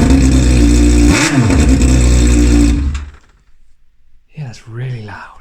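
A Yamaha Fazer motorbike engine with the exhaust baffles removed revs hard and loud up close, a brief blip rising mid-rev, then cuts off abruptly, after which someone speaks briefly.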